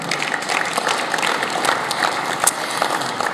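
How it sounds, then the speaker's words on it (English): Audience applause at the Car of the Year 2023 awards ceremony in Brussels, a steady full round of clapping from a sizable crowd, even and sustained throughout. "Round of applause, please, for Gabriel."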